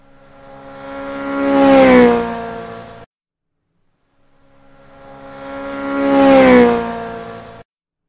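Dodge Tomahawk ten-cylinder motorcycle engine revving at speed: two separate roaring swells, each climbing to a peak and dropping away over about three seconds, with a brief silence between them.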